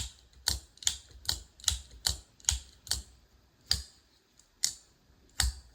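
Sharp wooden thwacks of a micarta-handled knife chopping, about a dozen separate strikes in an uneven rhythm, close and crisp with quiet gaps between.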